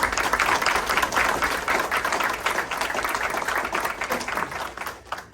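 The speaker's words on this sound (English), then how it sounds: "I'm going to propose a round of applause for our partners for this day" Steady, fairly loud audience applause at a county commission industrial park event, crowd clapping for partners that holds evenly before easing slightly near the end.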